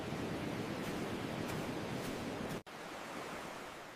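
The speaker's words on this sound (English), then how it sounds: "The waves are moving toward us." Steady broadband ocean surf rolls on at a sandy beach, a continuous wash of breaking waves with a brief sharp dropout partway through; no voices.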